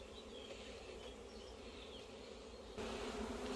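Honeybees hum continuously around an open village beehive during queen-cell removal, a dense, steady drone with a few individual bees whining past, growing slightly louder and closer near the end.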